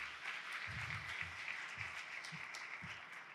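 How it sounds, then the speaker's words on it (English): Applause from the audience after a presentation at an aerospace composites conference, a soft, steady patter of clapping heard from a distance, with faint low thumps underneath. "a big hand of applause for Virginique and for this presentation"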